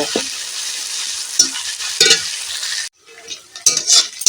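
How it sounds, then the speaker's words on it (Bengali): Garlic paste fries and is stirred in a pan over previously fried chopped onion, producing a close, steady sizzle with scraping spatula strokes and clinks, a brief lull, then renewed stirring and sizzling. "রসুন বাটাটাকেও ভেজে নেব"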